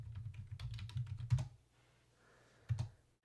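Rapid typing on a computer keyboard while entering a password during Raspberry Pi setup on a Mac, a dense burst of clicky keystrokes followed by a pause and a final firm keypress.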